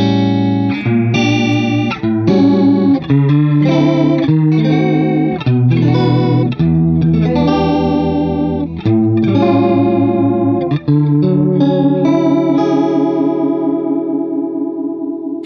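Electric guitar through a chorus pedal set to a high rate to mimic a Leslie organ speaker, with chords and melodic lines that warble quickly and swirl, loud and clean with no talking.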